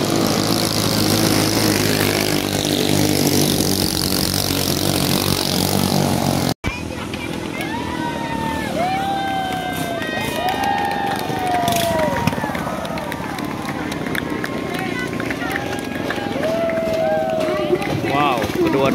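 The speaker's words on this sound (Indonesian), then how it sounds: "Wow, knalpotnya sangat luar biasa, fantastik." A ketinting racing boat engine roars through its exhaust during a river race final, a loud continuous buzzing drone whose revs swoop up and down as the boat passes.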